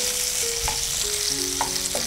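Chopped garlic sautés lightly in a pan with a continuous close hiss and crackle, and a faint tonal backing runs beneath it.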